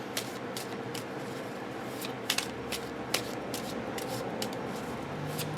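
Oracle cards are shuffled by hand in a continuous papery riffle and rub, with a few sharper snaps from the deck, close and steady throughout with no talking.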